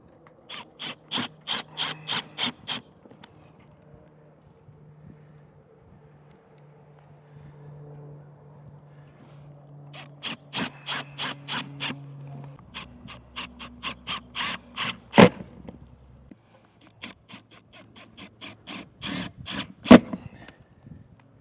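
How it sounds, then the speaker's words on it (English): A drill drives white square-bit button head screws through an RV awning rail into the wall, in several bursts of fast ratcheting clicks separated by pauses with quieter handling noise. "Now we're going to take these white square bit button head screws to secure that railing to the wall."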